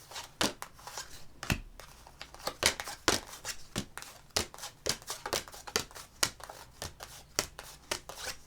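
Tarot cards being shuffled by hand up close, a steady run of sharp riffling slaps and flicks repeating in quick succession, with no talking.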